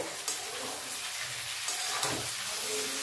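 Small fish dropped into hot oil for chuno macher chachori, producing a soft steady sizzle and hiss with a couple of faint splashes, quiet and close.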